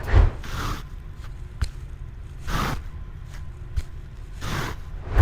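A foot drags across artificial turf during a softball pitch, heard as a few evenly spaced broad swishing scrapes, each a soft, moderately close sweep with quiet gaps between them and no voices.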